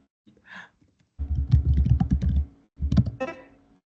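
Aggressive typing on a computer keyboard: two bursts of rapid, heavy keystrokes close by, the first longer than the second, with a brief pause between them.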